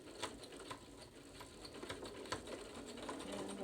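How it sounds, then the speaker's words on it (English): A sewing machine stitches slowly over a fabric band, a faint, steady run of small rapid clicks and mechanical whirring with no voices. "continue to sew slowly to go over the band"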